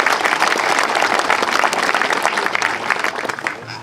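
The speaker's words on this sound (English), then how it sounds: "Please give them a great applause." A crowd at a statue dedication applauds local supporters, loud dense clapping from many hands held steady throughout, easing slightly at the end.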